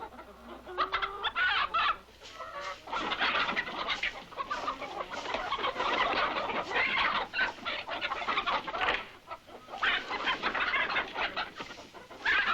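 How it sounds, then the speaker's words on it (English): Chickens clucking and squawking loudly and continuously, a busy flurry of agitated fowl calls that briefly dip around two and nine seconds before resuming. "How can you properly steal a chicken when it's pecking your nose off?"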